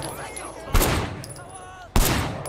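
Blind-fired gunshots in the action video game Sleeping Dogs, two loud, close shots or short bursts about a second apart, each with a reverberant tail, alone without talking.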